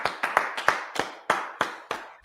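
Hand claps at a brotherhood class gathering, about ten sharp, evenly paced claps, close and distinct, with brief silence between each.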